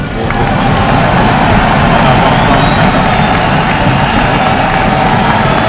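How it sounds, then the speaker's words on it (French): A large audience at a political speech claps and cheers in a dense, loud, continuous wash of applause that fills the whole stretch without letting up. "presque inaudible sous les salves d'applaudissements de l'assistance"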